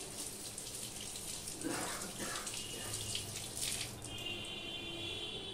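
Running water rinses chopped jackfruit in a kitchen, a steady close hiss of flowing water with brief splashes as pieces are handled.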